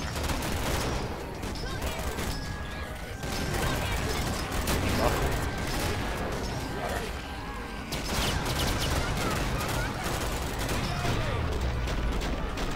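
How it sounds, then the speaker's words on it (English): Near-continuous weapon fire from the Killing Floor game on the Rural Road Night map, played as a Firebug in a modded Hell on Earth match, forms a dense, loud, sustained barrage with steady mechanical clatter and no clear breaks. "She's in, I'll start shooting her."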